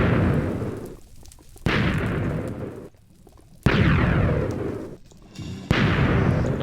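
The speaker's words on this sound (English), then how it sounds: "every time one of those appears, a fireball falls beneath it" Fireballs falling and exploding in The Curse of Castle Crendor: a series of loud bursting blasts at steady intervals, each flaring and fading quickly, with short quiet gaps between.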